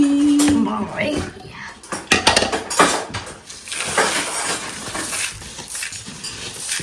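Spoons are pulled out of a kitchen drawer, producing a burst of metallic clinks and clatter against other cutlery and dishes. The clatter is close and sharp in irregular clusters, with some household background noise and brief voices.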